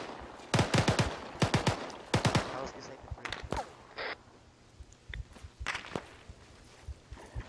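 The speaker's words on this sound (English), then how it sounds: "I'll fire over your head" Rifle fire crackles in an ArmA military simulation battle, several sharp bursts of shots early on, then scattered single reports and movement noises, with faint voices in the background.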